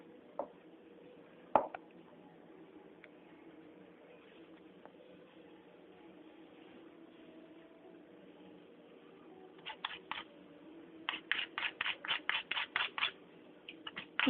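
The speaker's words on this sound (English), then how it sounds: "I'm just going to grate some nutmeg" Nutmeg grated by hand while cooking rawa kesari halwa, faint scraping at first, then a quick series of short rhythmic rasping strokes near the end, close and quiet.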